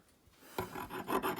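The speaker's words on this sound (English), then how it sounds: "I'm literally just rubbing it up against the file and just doing that." A small brass gear from a 1974 Westclox clock is rubbed against a metal file, giving quiet, close rasping strokes that start after a short pause and repeat unevenly.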